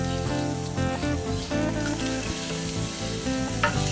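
Onions and garlic sizzle and fry steadily in a pan while cooking Italian lamb shanks, a close, continuous crackle with faint stirring, no voices.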